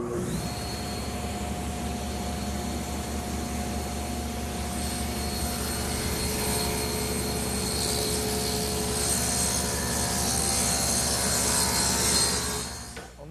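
A table saw cuts a rabbet in a wooden Chippendale mirror frame to hold a plywood back. Its motor drones loud and steady, and the whine grows brighter and harsher midway as the blade bites into the wood.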